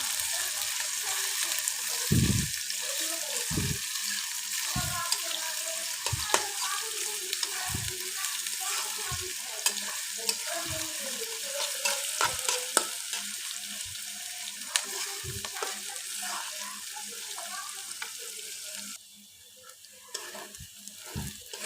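Onions sizzle steadily in a hot pan, with regular scraping knocks of a spatula stirring every second or so; the hiss drops near the end.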